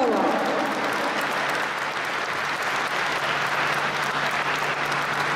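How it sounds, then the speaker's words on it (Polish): Audience applause at the Orzeł team presentation for the 2014 season, a sustained, even roar of many people clapping together at moderate loudness, with a faint hum beneath. "Duże brawa"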